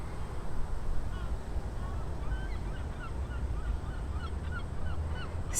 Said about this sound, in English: Seagulls in the background.